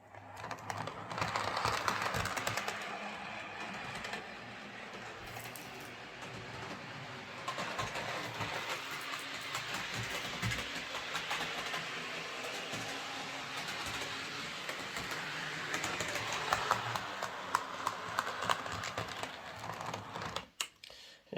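A Hornby Class 4P Fowler model locomotive, converted to a Type 7 motor, runs on a layout with a steady whirring, rattling drone that holds for about twenty seconds before cutting off.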